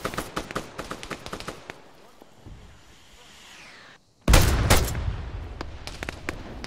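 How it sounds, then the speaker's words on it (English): Gunfire and a rocket in Arma 3 during an attack on a fuel depot: rapid sharp bursts of shots give way to a whooshing rush, then a loud close blast with heavy rumbling debris. "Careful with those rockets, you almost just hit me."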